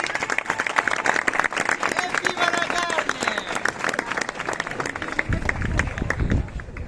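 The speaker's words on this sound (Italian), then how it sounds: "Applausi!" A crowd claps in sharp, rhythmic bursts during the butchers' candelora procession up Via San Giuliano in Catania, with shouting voices and loud cheers mixed in close by.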